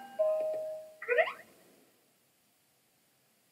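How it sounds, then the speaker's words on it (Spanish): A doorbell chime in a Pokémon Sun anime episode: a clear tonal ding with a second brighter burst, fairly near and alone, then silence before a sudden thump at the very end. "Oh, el timbre. Debe de ser el profesor."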